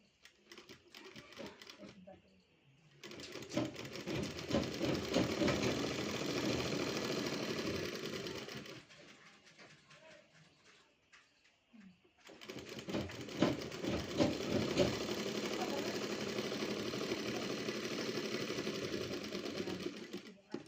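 Sewing machine stitching a straight seam along folded cloth, two long bursts of rapid, close mechanical chattering separated by a quiet pause with faint handling sounds.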